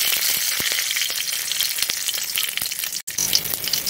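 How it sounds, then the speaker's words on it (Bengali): Spices, including nigella seeds, fry in oil in a pan in a village kitchen, making a steady close sizzle with scattered crackles and stirring taps and one brief dropout near the end. "ভালোভাবে ভেজে নিচ্ছি"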